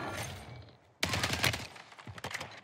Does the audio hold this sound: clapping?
no